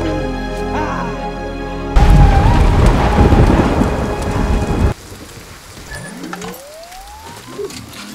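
Heavy rain pours loudly over a movie scene about giant insects, with a deep thunder rumble near the start, then the downpour cuts to a quieter scene with a rising electronic whine.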